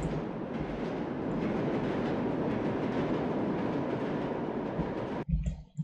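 A train rolls into a station platform with a steady, loud rumble of wheels and carriages for about five seconds, then cuts off abruptly into a quieter, uneven tail.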